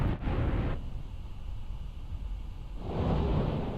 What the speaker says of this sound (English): That's the thunder. So that's when the ship kind of gets covered in electricity as it charges.